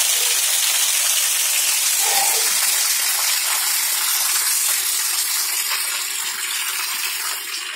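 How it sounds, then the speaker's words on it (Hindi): Heavy rain pours steadily on a flooded road, a dense, loud, constant hiss of falling water with no gaps, alone and without talk. "इतनी बारिश हो रही है।"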